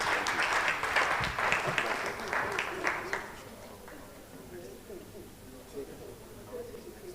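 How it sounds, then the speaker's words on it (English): A live event audience gives a round of applause that is lively for about three seconds, then quickly dies away to scattered claps and quiet room noise. "A round of applause, ladies and gentlemen."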